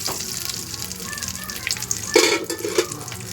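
Green chilli masala fries in a pan as it is stirred, a low sizzle with scraping spoon strokes and a couple of sharper clanks near the end, fairly close and moderately loud.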